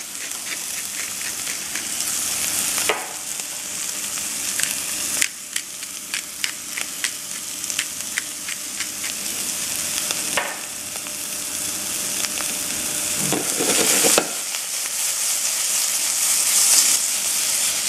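Oyster mushrooms sizzle in a hot pan with a bright, continuous frying hiss, broken by sharp stirring scrapes and clatters, and the crackle swells and dips as the pan is handled.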